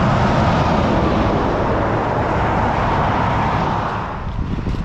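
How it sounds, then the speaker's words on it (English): Steady broadband roar of highway traffic, cars passing continuously close by, loud and unbroken, easing slightly near the end. "so you can probably hear the cars behind me."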